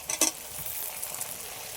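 Chopped tomato hits a pan of reddish-browned fried onions for a mutton curry, giving a brief stir-and-clatter burst followed by a steady, close sizzle.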